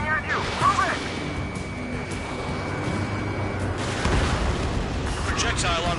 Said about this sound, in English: Missile coming at you.